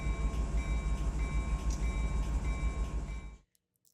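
A freight train in Run 8 Train Simulator shoves back toward the hump, a steady broadband rumble of rolling cars with faint tonal hum, continuous then cutting off abruptly near the end.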